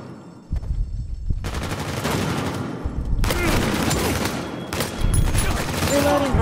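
Pistol fire in the Uncharted 4 video game: loud, sustained bursts of rapid gunshots in a chaotic firefight with brief pauses, with a voice audible now and then over the shooting.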